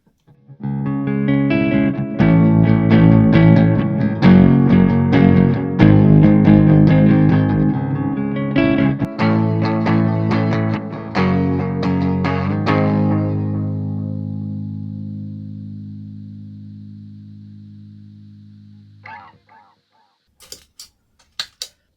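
Electric guitar played through an EVH 5150 Iconic amp, strummed chords and picked notes with lush reverb and echoing delay, then a long ringing chord fading out.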